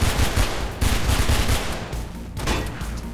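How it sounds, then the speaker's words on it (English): SMG gunfire in the video game Mirror's Edge rattles off in rapid bursts, loud and close, with brief gaps between volleys and no talking over it. "It's not a pistol, that's a like little SMG there."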